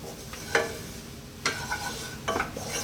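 A flour and butter roux being stirred in a pan, with a few distinct scraping strokes over a faint, steady sizzle.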